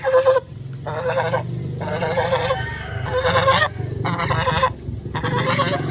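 Geese honk in repeated loud bursts, several calls in a row with short gaps, close by over a low background rumble.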